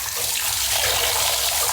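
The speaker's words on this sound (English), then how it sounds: "I love water sounds" Recorded water sample played back in Ableton Live: a loud, steady broadband rush of running water like a tap or filling tub, continuous and close with no voices.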